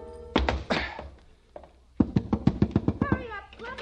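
A man drops down through a skylight and lands with a dull thunk. Other thumps and knocks follow in a quick run, and speech-like sounds come before the landing.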